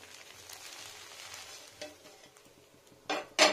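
Rice flour pitha batter sizzles softly in a hot pan, a low crackling fry with a few sharper scraping clatters near the end.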